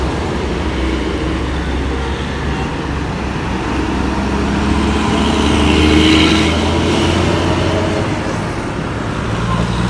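Low rumbling idle of a large bus engine at a roadside restaurant rest stop in Indonesia, steady throughout with a slight swell midway, accompanied by surrounding road noise.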